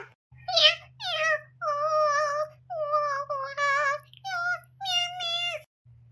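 A cat meows repeatedly in a series of close, drawn-out calls of varying pitch, with a low steady hum running underneath.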